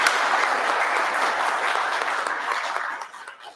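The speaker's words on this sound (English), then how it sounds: "Big round of applause for all our nominees and our winner." Audience applause at an Australia Day awards ceremony honouring nominees and a winner, a dense, even wash of clapping from a crowd that carries on throughout and begins to fade in the final half second.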